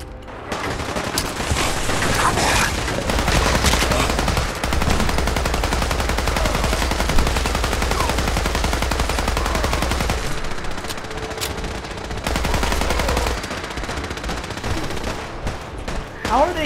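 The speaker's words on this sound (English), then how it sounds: "That guy's getting slaughtered by that Gatling cannon." Sustained, roaring Gatling cannon fire in Fallout 4 pours out in long continuous streams, loud and dense, broken by brief pauses and mixed with other game combat noise.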